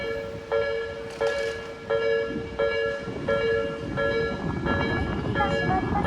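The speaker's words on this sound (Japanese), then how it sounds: "下り線電車は接近中です。" A Tobu Isesaki Line (Skytree Line) train rumbles past a level crossing near Takenotsuka Station, with the crossing bell ringing in a steady repeating pattern and the rolling clatter of the wheels continuing beneath it.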